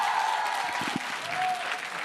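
A studio audience at a televised Indian education debate breaks into sustained applause, a dense wash of clapping that holds steady for the whole stretch with a few sharper claps standing out.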